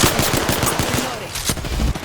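Rapid automatic gunfire in the Apex Legends battle royale game, dense bursts of close shots firing in a fast rattling rhythm, loud throughout the short stretch with no speech.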